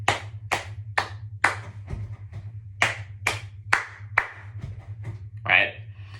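Group performs a pat, clap, thump hand pattern: sharp claps and pats in a steady repeating rhythm, about a dozen crisp hits over a low constant hum.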